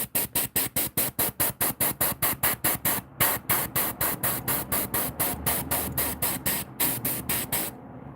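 Rapid, even bursts of an airbrush spraying paint while painting realistic bluegill fish, about three short hissing pulses per second, close and loud, with a brief pause partway and a stop at the end.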